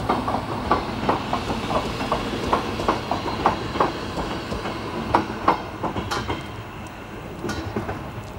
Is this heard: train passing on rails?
yes